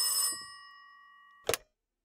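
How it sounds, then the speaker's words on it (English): A telephone bell rings once in a horror video game, a bright metallic trill that stops abruptly, followed by silence and a short low thump. "You turned off the TV to answer the phone?"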